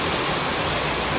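Steady rain pours down outdoors on a roadside street, a dense, even hiss with no break, loud and close throughout, with no voices over it.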